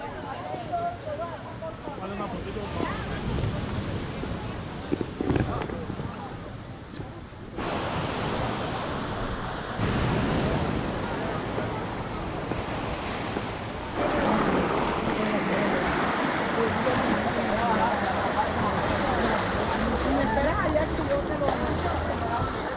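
Boats pull in one after another at the shore of Crystal Beach in Colombia. Waves wash in and wind rumbles against the microphone, and the sound grows louder and denser partway through.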